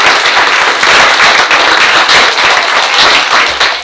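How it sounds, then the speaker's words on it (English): Loud, close applause at a school board meeting honoring a basketball team, a dense and steady burst of clapping with no talk over it. "let's give them a round of applause for that"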